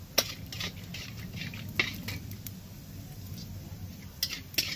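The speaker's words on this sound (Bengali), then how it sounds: "এটাকে হালকা নেড়ে নেব" Whole spices, small cardamom and cinnamon, are stirred in ghee and oil, with sharp metallic spoon clinks against the pan at irregular moments over a faint, soft background sizzle.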